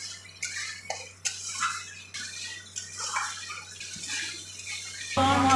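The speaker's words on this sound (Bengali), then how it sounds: "মশলাটা কষুক, যতক্ষণ না তেল বেরোচ্ছে ততক্ষণ আমি কষে যাব।" Masala spices with turmeric being fried and stirred in a pan for katla fish head muri ghonto, with repeated metallic scrapes and clinks of a spatula over a sizzling hiss, and no talk.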